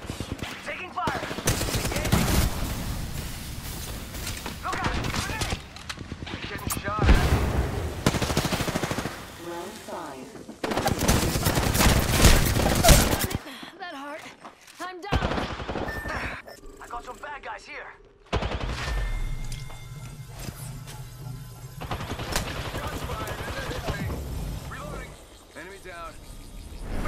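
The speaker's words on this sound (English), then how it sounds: "Taking fire!" Gunfire in Apex Legends comes in rapid automatic bursts and single shots, loud and repeated across the scene, with game sound effects and a voice speaking between volleys.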